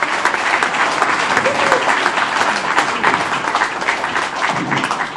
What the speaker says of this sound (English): give ourselves a round of applause for being here on a Saturday afternoon.